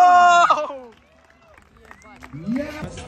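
A crowd at a FISE action-sports festival show claps and cheers in a brief swell near the end, following loud announcer-style shouting, with voices and babble throughout.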